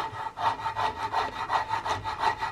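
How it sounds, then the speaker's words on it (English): A coarse rasp filing the wood of a rifle buttplate on a CVA Hawken build, steady rhythmic back-and-forth strokes, close and loud, with no talk. "So I jumped to this pretty coarse rasp to really try to get that removed quickly."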